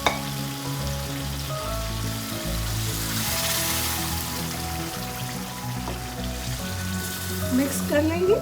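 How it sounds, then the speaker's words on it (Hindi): Tomatoes go into a hot pan for chicken karahi and sizzle loudly and steadily from start to finish, with stirring clatter and a brief burst of spattering near the end. "जो टमाटर हमने गलने के लिए रखे थे उसको इसमें ऐड कर देंगे।"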